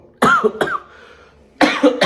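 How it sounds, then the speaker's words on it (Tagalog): Two bursts of harsh coughing, each a pair of quick, throaty coughs close to the microphone, separated by a short quiet pause. "So, medyo nauubo ko."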